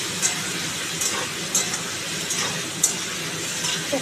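Papaya curry with mustard oil being stir-fried in a pan gives a steady, even sizzle with faint scraping ticks scattered throughout.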